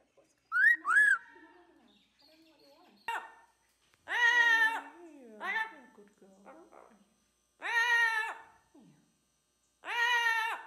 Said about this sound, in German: Und mich verfolgt seit geraumer Zeit so ein Vogel, der mag mich nicht.